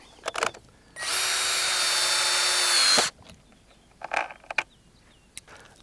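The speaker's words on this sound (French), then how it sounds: "je prends la vis, qui est une vis spéciale à penture d'ailleurs, et je visse l'ensemble, marche contre marche" A power drill drives special hinge screws into wooden stair treads, joining tread to tread on a modular staircase; one loud, steady whir of about two seconds, with scattered knocks and handling noises before and after.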